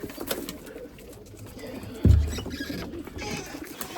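Lemon breeding pigeons coo softly amid a steady low background, with one louder, deeper coo bursting out near the middle before fading back into the ambient murmur.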